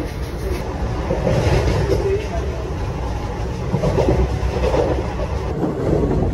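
Ratnachal Superfast Express with ICF coaches running at speed between Visakhapatnam and Vijayawada, a loud continuous rattling rumble with rhythmic jolts and wind noise heard from inside the coach.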